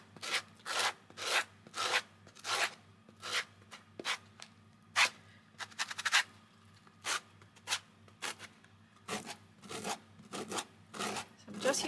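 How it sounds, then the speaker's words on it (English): Rhythmic rasping strokes as a fabric quilt block edge is sanded with the corner of an acrylic block, each stroke a brief scratchy burst in a steady back-and-forth pattern, close and fairly quiet. "Just using the corner of that acrylic block to give me a really good edge to sand."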